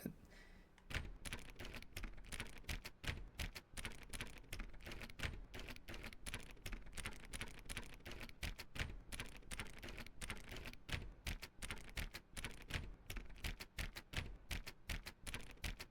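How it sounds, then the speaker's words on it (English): A button in The Stanley Parable video game is clicked over and over, giving a rapid, steady stream of sharp, crisp clicks at close range that keeps going with no breaks. No one speaks. "Perhaps 50 clicks will do it."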